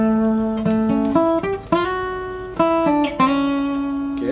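An electric guitar plays a pentatonic lick alone, a string of clear plucked notes with slides and bends, moderately loud and close, each note ringing briefly before the next.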